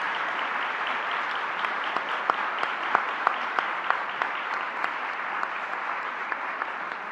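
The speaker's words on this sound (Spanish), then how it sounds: "Les pido un aplauso muy fuerte a Julieta Martínez" An audience claps for a speaker at a conference dialogue session, a broad, sustained wash of applause at moderate volume with a few sharper, closer claps standing out now and then.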